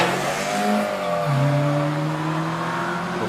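A small Caterham 7 with a 1600 engine racing up the Prescott hill climb course, its engine note rising and dropping sharply through gear changes as it accelerates hard, loud and close, with no voices.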